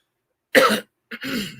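One person coughs sharply, then clears their throat in a longer rasping burst, two close, isolated sounds separated by a brief silence.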